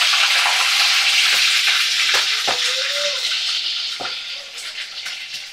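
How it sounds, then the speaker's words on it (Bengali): Shrimp sizzling and frying in oil in a wok, a loud, steady hiss with occasional crackles and a few spatula scrapes throughout, no talking. "চিংড়ি মাছগুলোকে এবারে কড়ার মধ্যে ছেড়ে দেব।"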